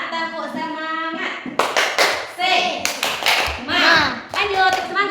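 A group of children clapping a rhythmic spirit clap in a classroom, sharp bursts of hand claps in patterned sequence, mixed with lively voices speaking and chanting.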